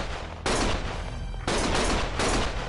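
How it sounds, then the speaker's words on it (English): Dense video game gunfire in Lost Judgment, rapid bursts of automatic shots packed into a loud, continuous roar with brief gaps between volleys. "Stop shooting!"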